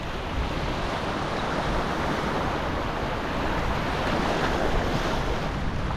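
Ocean surf washing against a rocky shore at Rock Port during an outgoing tide, a dense continuous roar of waves with wind buffeting the microphone, steady and fairly loud with no voices.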